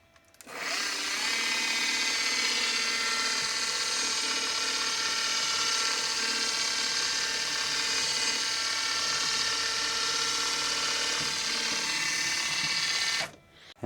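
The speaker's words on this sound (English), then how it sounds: "We got a super tiny center drill in there" A small lathe runs steadily while a tiny center drill cuts into a brass workpiece, giving a continuous bright mechanical whine with a fine ratcheting texture that starts abruptly, holds level for about thirteen seconds, then cuts off, with no talking.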